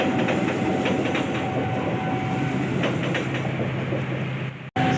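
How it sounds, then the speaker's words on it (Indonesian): A KRL commuter electric train passes close by, a loud sustained roar of wheels and rails with rhythmic clatter and a faint steady tone, ending abruptly. "Yang sedang melintas ini adalah kereta api KRL."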